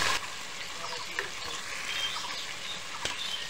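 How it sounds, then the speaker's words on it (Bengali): Crabs fry in hot oil in a wok, a steady broadband sizzle and crackle with small pops, close and fairly quiet throughout, with no voices. "কাঁকড়াটা হালকা করে আগে ভেজে নেব।"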